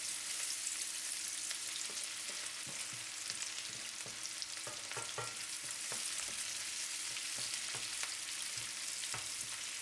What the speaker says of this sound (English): We saute the onions to take away their raw sharpness.